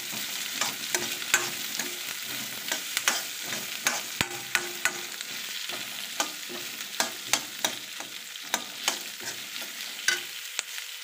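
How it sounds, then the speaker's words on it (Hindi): Chopped onions roasting in a kadai for kadai paneer, a steady close sizzle broken by frequent rhythmic scraping clicks of a spoon stirring against the pan; no voices. "इसको हम हल्का सा रोस्ट करेंगे"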